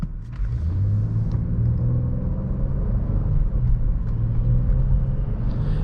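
A 2020 Acura MDX engine accelerating while driving, a steady, smooth rumble with a rising drone under constant road noise, heard from inside the cabin without talk.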